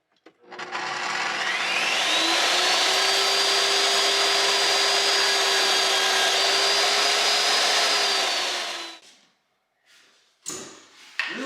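A power saw cuts wood trim during an attic conversion, its motor whining steadily and loudly for about seven seconds before winding down, with a few faint clunks afterward.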